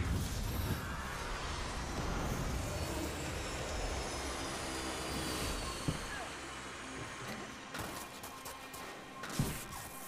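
A broad, airy whoosh and drone from a flying drone in the video game Mirror's Edge Catalyst, loudest at the start and easing into a steady hum, with a few soft thumps near the end.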